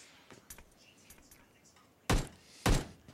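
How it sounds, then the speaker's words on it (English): A smoke grenade in PUBG Mobile: faint scattered clicks and rustles, then two loud, close thumps about half a second apart near the end, with no talking. "Trying to finish him off with a grenade. Will it finish? No, it's a smoke."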